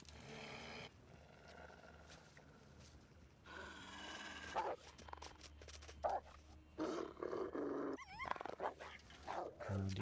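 A wolf in the survival video game DarkWalker growls and snarls in rough bursts that build louder over roughly ten seconds, with sharper roars near the end and no talking.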